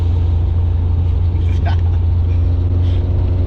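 A Toyota KE70 Corolla being driven through corners, its engine a steady low drone with constant road rumble inside the cabin, moderately loud and unbroken throughout.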